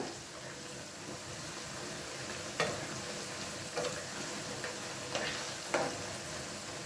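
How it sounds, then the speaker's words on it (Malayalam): Sliced okra frying in a pan gives a constant, dense sizzle, with a few short spatula scrapes and knocks from occasional stirring, close and alone with no talk. "നന്നായിട്ടൊന്ന് ഫ്രൈ ആവട്ടെ ഇടയ്ക്കിടയ്ക്കൊന്ന് ഇളക്കി കൊടുക്കുക"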